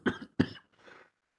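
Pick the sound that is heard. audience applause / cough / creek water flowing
cough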